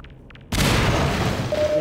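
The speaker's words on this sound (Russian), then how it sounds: "надо тут гранату кинуть" A thrown grenade bursts in the video game Garry's Mod, a sudden loud boom that follows a brief quiet lead-in and then rumbles on as a sustained, roaring blast.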